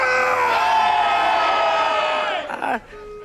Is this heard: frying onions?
no